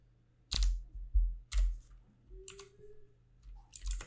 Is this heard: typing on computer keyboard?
yes